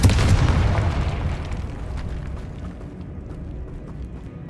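A Confringo spell explosion in the Hogwarts Legacy video game opens with a loud, deep boom and rolls away into a long, fading rumble with faint crackles trailing behind.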